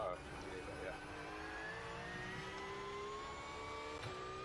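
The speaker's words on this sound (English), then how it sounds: "I can hear you over the engine." A racing car engine in iRacing at the Nürburgring 24H layout drones steadily throughout, a high whining tone under faint talk.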